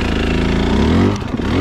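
A 2025 KTM 300 XC two-stroke dirt bike engine on a gentle throttle on a side hill trail, steady close buzzing drone with a slight rise in pitch, loud and alone.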